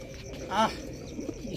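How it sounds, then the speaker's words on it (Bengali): A pair of Oman 128 breed pigeons gives a short, soft coo near the middle of the clip against a low background murmur. "ডিম বাচ্চা করা কবুতর"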